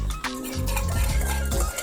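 Ground spices, including cloves and ras el hanout, being stirred together in a bowl, with a close, scraping clatter of spoon against the bowl over a couple of seconds.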